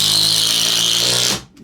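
Makita 18V compact cordless drill driving into a hole in wood, a loud steady high-pitched motor whine that stops abruptly near the end.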